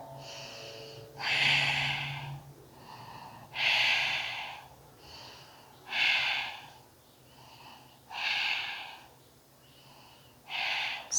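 Slow, deep breathing held through a hip-opening yoga pose: five long breaths taken one after another at an even pace, each a broad airy whoosh, close and fairly soft.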